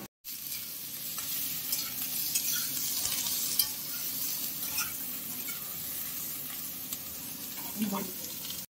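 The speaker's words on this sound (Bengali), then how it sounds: "বেগুনটা সামান্য ভাজার পরে দিয়ে দেওয়া হচ্ছে সিম।" Flat beans hit eggplant already frying in hot oil, a soft continuous sizzle with light stirring scrapes, fairly quiet and close, while a Bengali tangra fish curry is made.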